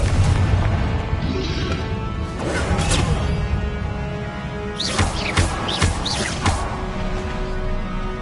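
Confringo explosive spell in Hogwarts Legacy, heard as a string of loud booms and crackling bursts, clustering in a rapid volley near the end, over a constant low game rumble with no talk.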